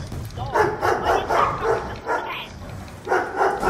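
A dog in the video game Black Ops 2 barks repeatedly in uneven bursts, with a voice underneath, somewhat processed and close.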